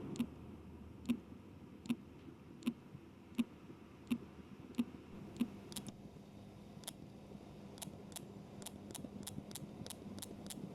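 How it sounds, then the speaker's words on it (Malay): A Garmin Forerunner 955 smartwatch's newly replaced vibration motor gives a series of short, sharp ticking clicks, evenly spaced at first and then faster and more irregular, faint against quiet background hiss. "Dan ini adalah bunyi selepas kita buat penukaran vibrate motor."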